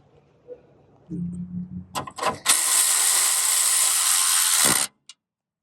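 A power tool tightens AC condenser line fittings on a 2012–2015 Honda Civic: a few short close bursts, then a loud, steady whir for about two seconds before it stops abruptly.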